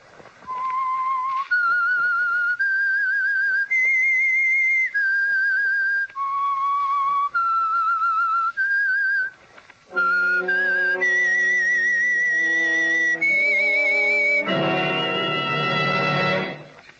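A clear, piercing whistled melody of sustained notes, stepping up and down in a slow tune, ending with a fuller harmonic chord.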